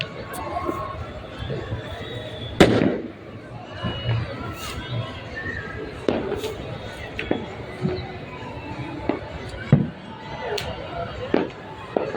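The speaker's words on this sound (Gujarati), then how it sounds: "કેટલા ફટાકડા ફૂટ્યા" Scattered firecracker bursts crack now and then at a Makar Sankranti (Uttarayan) celebration, a few loud and near, amid continuous crowd chatter and people talking.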